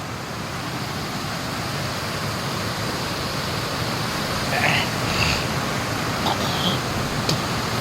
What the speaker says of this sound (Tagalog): Biglang lumakas yung agos.